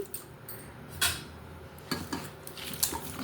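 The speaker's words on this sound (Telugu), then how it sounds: "ఇది కూడా అంతా కలిసేలా కలుపుకోవాలి" A spoon clinks and scrapes against a bowl while amla pickle is mixed with tempering, a few sharp metallic taps among quieter scraping, close by, no voices.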